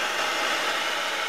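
A torch roars steadily while heating and darkening a wooden bowie knife handle, giving a close, even, unbroken hiss.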